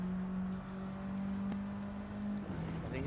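Turbocharged car engine in the racing game Gran Turismo 7, a steady high droning rev with a faint turbo whistle, held loud and close throughout with a slight dip in pitch near the end.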